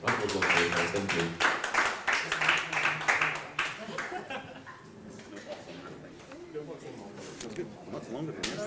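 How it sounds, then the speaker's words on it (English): A conference audience applauds, with dense clapping at first that fades into scattered claps and crowd murmur while people talk. "Round of applause for yourselves, please."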